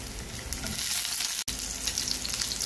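Two tomatoes fry in a pan for shrimp and taro root adobo, giving a loud, continuous close sizzle with a brief dropout midway.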